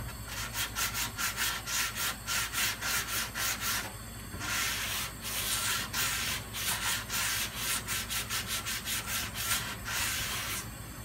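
Hand block sanding of a Toyota Camry body panel before primer, steady rhythmic back-and-forth rasping strokes up close, with brief pauses between runs and no talking.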